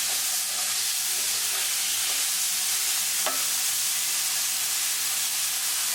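Tomatoes stirred into a pan of green chili tadka, frying with a steady close sizzle and hiss, plus a few soft scraping stirs of a spoon across the pan.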